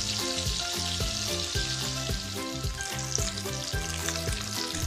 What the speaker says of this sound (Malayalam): പിന്നെ നമുക്ക് ലോ ഫ്ലെയിമിൽ ഇട്ടിട്ട് പതുക്കെ ഓരോ ചെമ്മീനുകളും ഇട്ടിട്ട് ഫ്രൈ